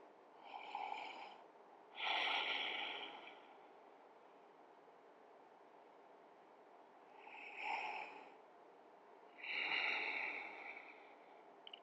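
Deep, slow breathing during an upper-body mobility exercise: four close, airy breaths in two pairs, each a shorter inhale followed by a longer exhale, with quiet gaps between them.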